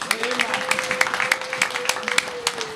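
Church congregation applauding at an evangelistic testimony service, a dense patter of clapping with a steady sung or sustained tone running underneath throughout.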